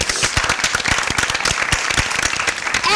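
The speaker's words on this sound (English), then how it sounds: "A round of applause for them." Dense audience applause fills three seconds, steady and loud, with individual hand claps standing out near the front and faint voices in the crowd.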